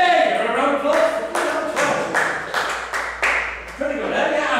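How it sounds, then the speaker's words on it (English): An audience at a stage hypnosis show gives a steady round of applause, with dense clapping that swells in several waves over a few seconds. "Give her a round of applause."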